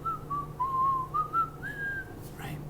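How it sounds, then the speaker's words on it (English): A person whistles a simple wandering tune alone, long held notes sliding up and down over a steady low hum, with a brief breathy sound near the end. "There's a little bit of whistling that we could do."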